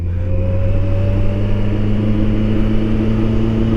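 A Kawasaki ZX14R motorcycle engine runs with the clutch engaged, a loud, steady low-pitched drone with strong even harmonics and a slight rise in pitch across the few seconds.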